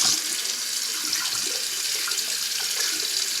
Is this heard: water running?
yes